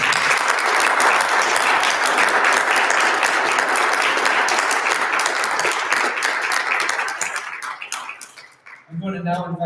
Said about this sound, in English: Please join me in a round of applause for this small but mighty pride moment